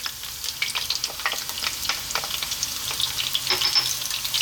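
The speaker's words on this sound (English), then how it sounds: "And we're going to fry these around for about 3 to 4 minutes." Onion and garlic fry in oil in a pan for Arab green beans, a continuous crackling sizzle with occasional stirring scrapes, close and moderately loud.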